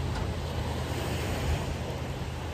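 Ocean waves on a beach make a steady, broad wash of surf that rolls on without a break, close and full, mixed with some wind rumble, with no voices.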